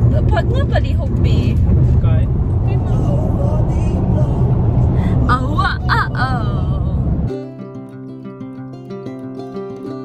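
Car driving, heard from inside the cabin, a steady low rumble of road and engine under people talking, cutting off abruptly near the end.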